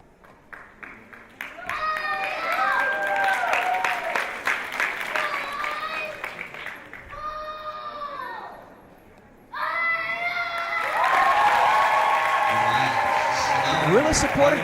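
An arena crowd at a martial arts championship claps and cheers in sustained bursts with a short lull midway, while voices and excited children's calls rise over the applause.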